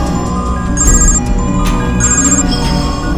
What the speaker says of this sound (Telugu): ఆడి ఫోన్కి డిఎస్పీ ఫోన్ చేస్తున్నాడన్నా